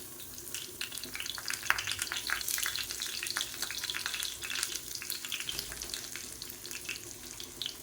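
Curry leaves sizzle in hot oil for a fish curry, a steady crackling fry with a watery, bubbling texture and occasional sharper pops, close and moderately quiet, with no talking.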